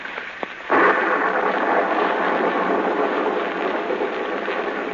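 Radio drama sound effect of a heavy thunderstorm on a muddy village road at night: steady loud rain roar with a thunder rumble breaking in, holding alone and continuous throughout.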